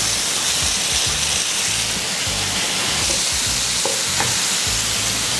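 Spice paste hitting hot oil along with dry chilli and curry leaves for a coriander-seed and ginger rice, giving a dense, loud, continuous sizzle and hiss close up, with a few faint clinks.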